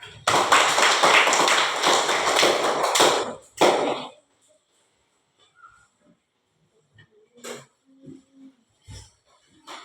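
Audience applause and clapping breaking out at the close of a talk, a dense burst of many hands for about four seconds, then stopping abruptly into near silence with a few scattered taps and thumps.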